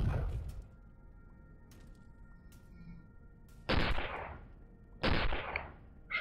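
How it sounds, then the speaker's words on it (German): Explosions in the space game Avorion: two sharp, loud blasts a little over a second apart, each with a short fading roar, following quieter low rumbles and faint clicks. "Schöne Explosion"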